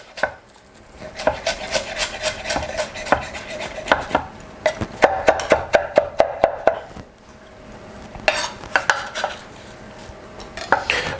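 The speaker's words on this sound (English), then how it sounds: "Run the knife through the parsley." A knife chops fresh parsley on a cutting board in a kitchen, a steady run of close, crisp rhythmic knocks, pausing briefly before resuming.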